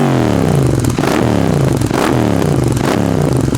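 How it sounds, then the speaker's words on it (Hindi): A Royal Enfield GT 650 twin with an SSP exhaust and BMC filter revs hard in repeated loud, deep blips, the engine note rising and falling close by without any talking. "एक बार मैं आपको फिर से रैप करके इसकी जो साउंड है वो सुना देता हूँ"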